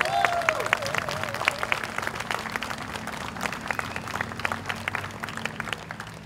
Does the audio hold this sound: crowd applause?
yes